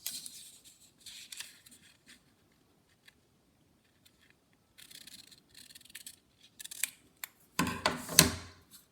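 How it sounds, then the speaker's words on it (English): Scissors snipping through a paper craft piece for a holiday house, short crisp cuts in scattered clusters separated by quiet gaps, then a louder rustle of paper near the end, close with no talk. "on this side, I'm going to cut it the exact same way. But now I'm going to take this section off."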